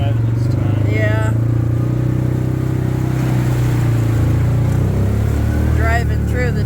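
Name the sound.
four-wheel-drive vehicle driving through flooded irrigated field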